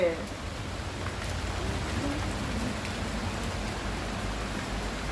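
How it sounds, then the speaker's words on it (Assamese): Steady rain falling outdoors, a dense even hiss of drops on surfaces that holds at a constant moderate level throughout, with no voices over it. "দেখুৱাই দিয়া বৰষুণ কেনেকুৱা বৰষুণ দি আছে"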